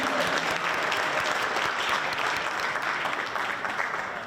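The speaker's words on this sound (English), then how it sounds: "One more hand of applause for all of them." Audience applause at an MLK coalition community event, a steady, dense round of clapping from a sizable crowd that holds at a loud level throughout before easing slightly at the end.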